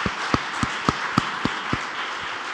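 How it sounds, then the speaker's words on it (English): Audience applause at a White House convening on equity, a steady wash of clapping with several louder, closer individual claps repeating at a regular pace. "give a intense round of applause for the phenomenal leaders of this president's administration"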